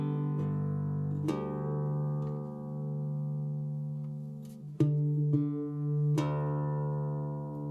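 Guitar tuned to open D G D G B D, its open strings plucked one by one in sequence down and back up, each note ringing and sustaining alone, clear and close.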